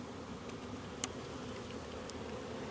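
Honeybees buzz around the combs of a hive troubled by laying workers, a soft, continuous hum close by, with a few brief sharper ticks and clicks.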